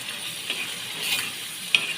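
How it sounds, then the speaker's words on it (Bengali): Fish frying in a pan with garlic, stirred now and then: a steady soft sizzle with a few short scraping clicks, close and moderately quiet, no voices. "এখন আমার মাছটা সুন্দর করে ভাজা হয়ে গেছে"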